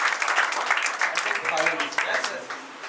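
An audience at a church gathering applauds the team, with dense steady clapping that runs throughout alongside some voices.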